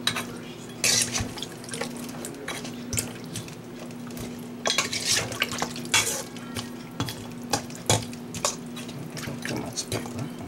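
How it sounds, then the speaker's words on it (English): Pig foot souse mixture being stirred together in a bowl, with soft clinks and sloshing scrapes in irregular bursts over a steady low hum. "Mix everything together."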